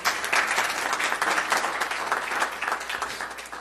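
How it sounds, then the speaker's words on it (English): Church congregation clapping hands in praise during a service, a steady dense burst of applause lasting a few seconds with no speech over it. "Give God a hand clap of praise."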